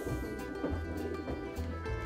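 Homing pigeons coo softly nearby, a few low rolling coos repeating at a relaxed pace over quiet background.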